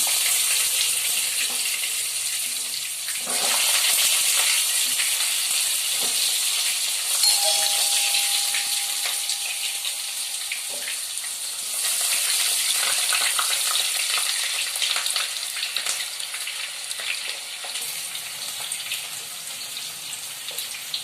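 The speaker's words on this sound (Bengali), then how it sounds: "এবার সবজিগুলো আমি ভেজে নেব এটাতে" Potatoes and vegetables fry in a pan for khichuri bhog, giving a steady, loud sizzle throughout with occasional stirring scrapes and no voices.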